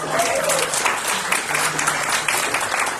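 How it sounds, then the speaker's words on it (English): A church congregation claps together at a Sunday celebration service, a steady broadband patter of many hands that continues throughout, with a voice briefly audible over it. "let's give ourselves a round of applause"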